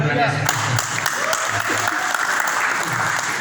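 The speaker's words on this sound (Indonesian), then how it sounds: "Tepuk tangan dulu" An audience applauds at a church sermon, a dense, steady clapping that fills the whole moment, with a voice briefly heard at the start.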